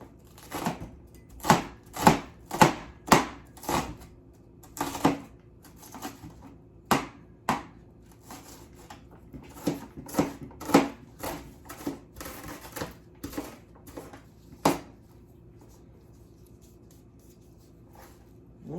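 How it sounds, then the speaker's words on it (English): A knife chops an onion repeatedly on a cutting board, sharp taps in uneven bursts that grow quicker and lighter, then trail off. "Hope this noise is not too, chopping is not too annoying."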